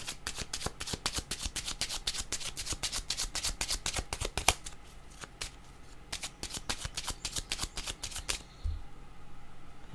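Deck of tarot cards shuffled by hand in rapid crisp riffling bursts, close and clear, pausing briefly midway, then stopping near the end before a soft thump, with no talk.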